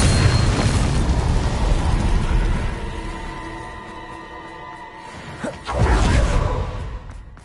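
A Confringo blasting curse explodes in Hogwarts Legacy with a loud booming burst and whoosh that slowly fades into a ringing tail, then a second blast erupts near the end, close and forceful.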